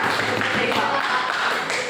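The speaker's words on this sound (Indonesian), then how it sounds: "Tepuk tangan dulu" A classroom group claps together, a brief burst of quick, dense hand claps that is fairly close and even in loudness throughout.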